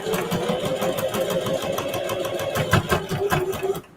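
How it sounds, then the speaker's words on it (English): A domestic sewing machine stitching along a jeans seam runs in a steady, fast, close mechanical rattle with an even needle rhythm and no pauses. "And then I'm just going to sew."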